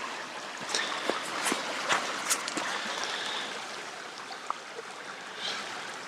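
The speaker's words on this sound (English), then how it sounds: "there's some nice creek flow right here" Reavis Creek flowing beside a backcountry campsite in the Superstition Wilderness, a soft, steady wash of running water with faint trickles and splashes, heard alone at a modest distance.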